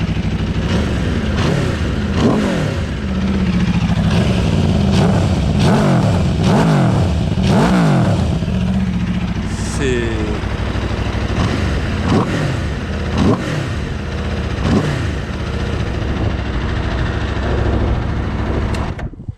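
An Aprilia RSV4 Factory 1100 superbike with a valved exhaust revs hard nearby, rising and falling in repeated throttle blips for about ten seconds, then settling into a rough, loud idle with occasional revs, with no talk.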